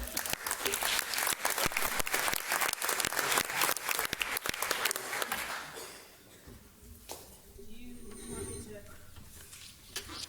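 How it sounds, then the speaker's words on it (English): An audience at a town meeting bursts into dense, loud applause with cheering for about six seconds, then the clapping fades into quieter room noise. "Big cheer for Horace."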